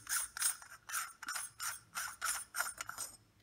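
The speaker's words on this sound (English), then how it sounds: "the outer burrs, those loosen by turning anti-clockwise" Outer burrs of a 1Zpresso X-Pro hand coffee grinder being turned anti-clockwise to unscrew, giving a steady series of about nine close, quiet metallic ratcheting clicks in a regular rhythm.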